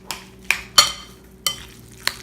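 Spoon stirring and mashing scooped squash in a bowl, five distinct scraping knocks at an uneven rhythm, close and clear with no talk.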